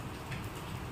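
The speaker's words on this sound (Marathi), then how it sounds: "बापरे पाऊस बघ ना" Early-season rain falls steadily as a dense, even hiss of drops, faint and continuous over a brief moment with no voices.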